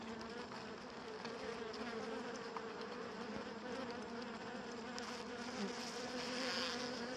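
A dense, steady buzz of many honeybees at an apiary fills the air continuously, close and constant with no voices.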